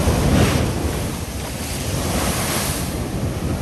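Sea surf surges and breaks on the shore near Lazarevskoye, Sochi, a continuous loud wash of waves with wind buffeting the microphone, building in the first second and rolling on steadily.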